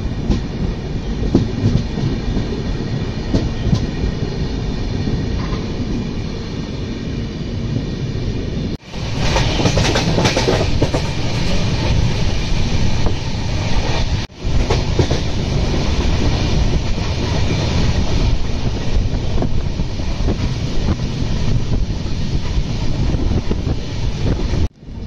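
A Konkan Railway train runs along the tracks from Mumbai toward Rajapur, with a steady loud rumble, rhythmic clickety-clack and wind buffeting the microphone, recorded close from on board with brief dips in the noise.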